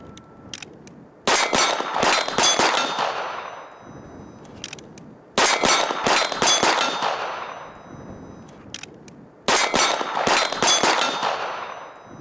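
Steel Challenge pistol shooting at steel plate targets: three rapid strings of sharp gunshots, each followed by ringing metallic clangs from the plates, separated by short pauses.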